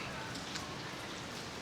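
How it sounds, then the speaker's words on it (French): Heavy downpour beside a swimming pool, a dense, steady hiss of rain pattering on surfaces, loud and unbroken throughout. "je vous dis, il pleut, mais des cordes, hein, incroyables"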